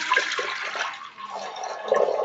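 Water poured into a cooking pot to boil greens from the jungle, a close, steady splashing gush that briefly thins out midway and then swells again, with no talking.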